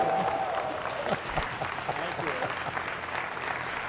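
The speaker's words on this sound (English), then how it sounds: "can we please give a Go Blue round of applause for our presenters, please?" A university audience applauds presenters at a career development event, steady dense clapping filling the whole stretch, with a voice speaking over it near the start.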